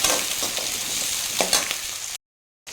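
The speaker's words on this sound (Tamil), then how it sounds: "வெங்காயம் வதங்கிட்டுருக்கும்போது இந்த பூண்டையும் இதில் சேர்த்துடலாம் சேர்த்து எல்லாம் ஒன்றா வதங்கிட்டுருக்கோம்" Onion and garlic frying in a pan, a steady close sizzle with scrapes and knocks from stirring, then a brief cut to silence near the end.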